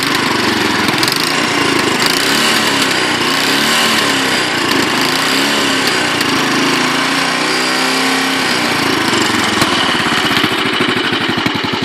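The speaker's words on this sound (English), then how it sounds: "You can hear the tappets going there" A Royal Enfield Bullet 500 Classic engine runs steadily up close, a loud, continuous mechanical clatter with a busy ticking texture over a low, throbbing idle.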